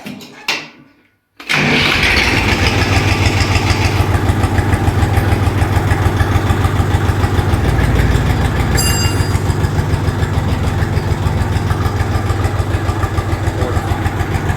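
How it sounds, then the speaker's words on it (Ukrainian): A tractor engine cranks after a rebuild, catches and settles into a steady idle, a loud close rhythmic chugging with fast regular pulses that continues for over ten seconds. "збираю і буду запускати двигун"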